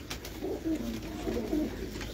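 A flock of pigeons in a Lahore coop coos in low throaty bursts, two or three clear rolling phrases over a steady murmur, close at hand.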